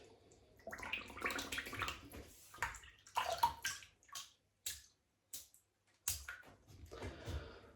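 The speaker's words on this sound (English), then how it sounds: "Okay, wet the brush." Tap water running and splashing to wet a shaving brush before lathering shaving soap, heard in intermittent close bursts with brief pauses between them.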